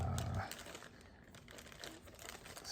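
Plastic packaging crinkling and rustling as a PC power supply is unwrapped, a quiet close crackle that starts with a louder burst then continues in soft scattered crinkles.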